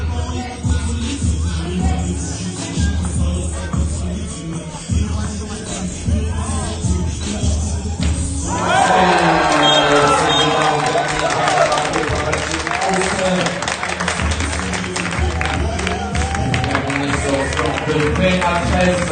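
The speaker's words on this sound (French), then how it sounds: "on applaudit les joueurs et les équipes qui ont fait un beau spectacle" Crowd noise at a men's Open Plus Junior League 3x3 basketball final, Ossun vs 3x3 Academy, swelling into sustained, dense applause and cheering about halfway through, with voices mixed in underneath.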